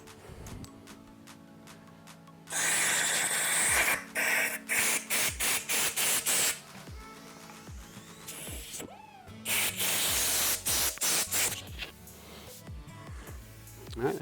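Compressed air blows a new grip onto a Kawasaki Z H2 motorcycle handlebar in loud, close hissing blasts, first one long burst and then a series of short, rapid pulses, broken by quieter handling noises.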